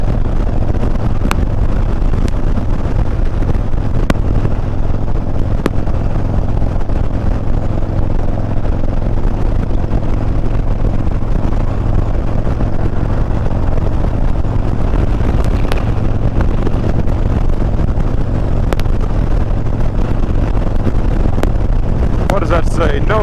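A Fiat 124 car driving across the Bay Bridge, a constant low engine and road drone mixed with heavy wind buffeting, steady and loud for the whole stretch.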